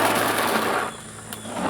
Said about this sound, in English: So we're gonna shoot until either the air or the paintballs run out.